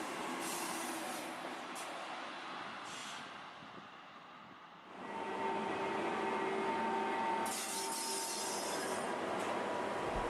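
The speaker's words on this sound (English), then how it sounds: "The green train pulls into the station high up on the mountain." A green train pulling into a high mountain station, rumbling steadily as its wheels squeal and hiss, fading briefly before rising again, with nobody talking.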